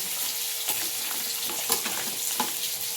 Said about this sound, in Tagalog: Haluin natin para mapunta sa ilalim ng gulay.